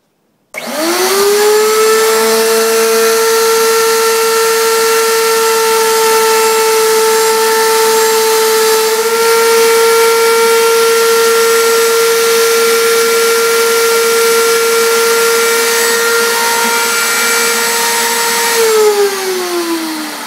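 Power tool whining steadily as it cuts a 3/16 inch groove around the edge of a walnut and ash landing net frame, one loud, close, continuous high-pitched run of about eighteen seconds that spins down at the end.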